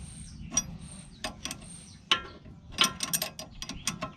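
A hand ratchet turns the nut on a sway bar link of a lifted independent-front-suspension 4WD, giving quick bursts of close metallic clicking in short irregular strokes.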